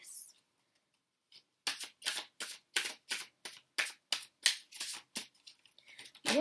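Tarot cards are shuffled and handled in a steady run of about a dozen crisp papery riffle bursts, close and fairly loud, after a short quiet start.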